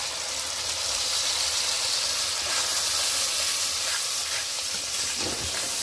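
Cauliflower and potato curry sizzles and hisses in a pan with tomato paste, a steady, close frying hiss with faint stirring scrapes and no talk.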